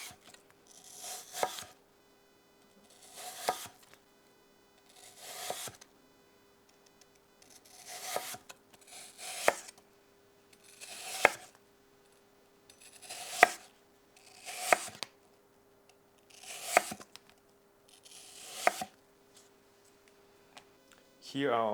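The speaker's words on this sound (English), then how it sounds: "Next, we are going to slice our apples" A knife slicing apples on a cutting board for an Alsatian apple tart, about ten evenly spaced crisp cuts, each a short crunch ending in a tap on the board, close and clear with quiet pauses between.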